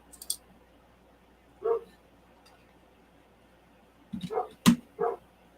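Several sharp dog barks come in short bursts with quiet gaps between them, a single bark first, then a quick cluster near the end.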